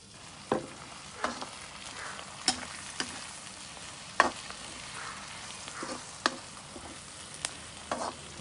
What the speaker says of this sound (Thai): ผัดกระเทียมให้หอมนะผม